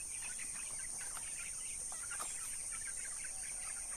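Backyard free-range chickens cluck faintly in scattered short calls over a steady high buzz of insects, distant and quiet, with no voices.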